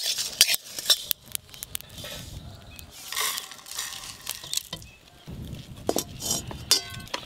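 Roasted spices are tipped out of a hot pan, with irregular metallic clinks and scrapes of a utensil against the pan in short bursts and quiet gaps between them.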